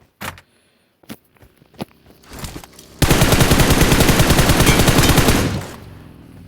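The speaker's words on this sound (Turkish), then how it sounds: "Şimdi silah sesi sıktık." A few scattered shots and clicks, then a sustained burst of rapid automatic gunfire in the video game PUBG Mobile lasting a couple of seconds before cutting off.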